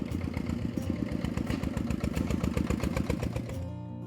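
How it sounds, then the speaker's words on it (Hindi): A tractor loaded with sacks chugs close by with a rapid, rhythmic rattling engine beat and clattering knocks, then cuts off abruptly near the end. "एक बार एक ट्रैक्टर बोरी लाद कर वहां आई"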